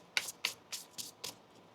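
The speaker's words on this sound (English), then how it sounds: "One more shuffle here." Tarot cards shuffled by hand, five crisp riffling slaps in quick succession, close and clear with no voices.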